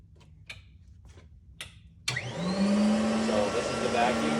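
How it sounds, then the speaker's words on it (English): The vacuum motor of an NSS Wrangler floor scrubber, a two-stage motor with high water lift, switches on after a few faint clicks and spins up into a loud, steady whine with a rising tone. "this is how you turn the vac on right here"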